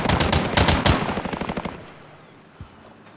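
A fast automatic burst from a PP19 Bizon submachine gun in Call of Duty: Warzone, sharp rapid shots for about a second and a half, then fading with one faint later report.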